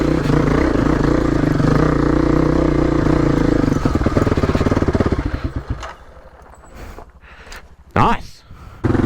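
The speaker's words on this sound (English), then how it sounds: "I'm on a KLX 250. Gonna get it up this hill here." A Kawasaki KLX 250 motorcycle climbs a hill off-road, its engine loud and close with rising revs and clatter before easing off; a rider talks over it.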